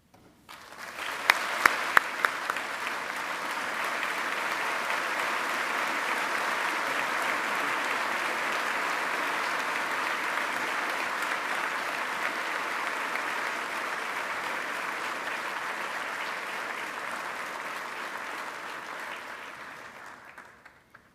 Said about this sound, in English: let's give all of our award winners another round of applause.